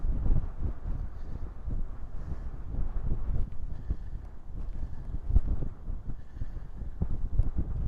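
Strong wind buffeting a microphone on the Scottish coast near Gretna and the England border, a continuous low rumbling roar with gusty surges, close and loud, no voices.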